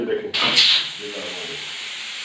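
Steam from a pressure cooker of heated water, released through a pipe fitted in place of the lifted weight, hisses steadily and loudly after a brief spoken phrase, then settles into a constant softer rush.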